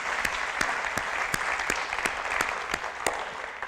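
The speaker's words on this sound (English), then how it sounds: "I think she deserves a round of applause as well." A lecture audience applauding, a steady dense clapping crowd with individual claps popping out at a regular pace, sustained loud throughout with no talk.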